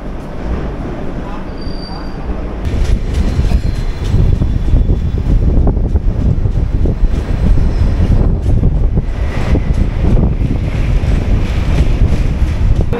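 Himgiri Express train running along the rails, a steady dense low rumble with faint clatter and wind buffeting, loud and continuous for the whole stretch.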